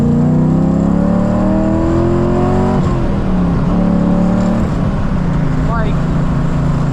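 A cammed Infiniti G35 making 450 horsepower pulls hard under acceleration, its loud engine tone climbing steadily before dropping at each gear change and rising again, heard from inside the car with a voice talking over it.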